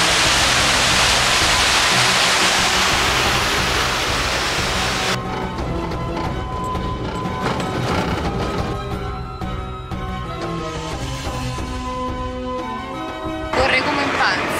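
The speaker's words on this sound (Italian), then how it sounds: "Questa è una cascata che genera sapone," Rushing water from a soap-foaming waterfall in Egypt, a loud dense hiss at first that gives way to music for the rest, with the water roar returning briefly at the end.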